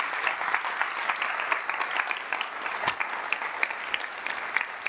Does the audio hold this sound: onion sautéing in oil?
no